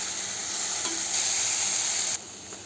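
Coriander, mint and green chilli sauté in a pan with a steady, close sizzle that swells louder midway and then drops off sharply near the end, with no voices.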